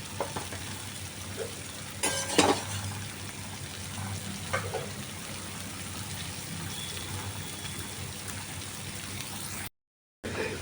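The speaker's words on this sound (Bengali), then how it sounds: "আরেকটা কড়াইতে আমি এই চিংড়ি মাছগুলো একটু ভেজে নিচ্ছি" Prawns fry in a kadai with a steady, soft crackling sizzle, broken by a few brief louder spatters and stirring noises early on.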